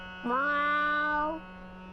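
Cartoon cat meowing while sitting in the snow: one drawn-out, clear meow, close and loud over a steady low hum.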